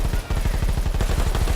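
An in-game gun fires a rapid, evenly spaced stream of loud shots in a World War 3 first-person shooter, nearly continuous automatic fire close up.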